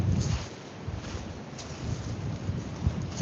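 Gusty wind buffets the microphone on a windy coastal morning before bass fishing, low rumbling bursts rising and falling in uneven waves with no voices.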